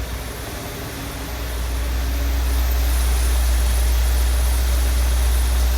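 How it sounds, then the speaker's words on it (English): A 1972 Lincoln Mark IV with a 460 cubic inch big-block V8 and custom dual exhaust idling, a steady deep low rumble that swells slightly louder after the first seconds and holds constant, close and alone. "Love the sound of a big block in the morning."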